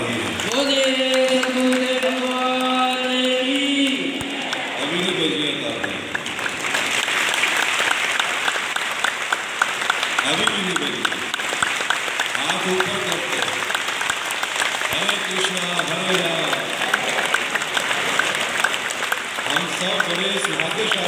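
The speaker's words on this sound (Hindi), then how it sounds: "तालियों की आवाज कम आ रही है।" Sustained audience applause at a Hindu religious discourse held at a Radha Krishna temple, loud dense clapping throughout, with a voice speaking or chanting over it at the start and again at intervals.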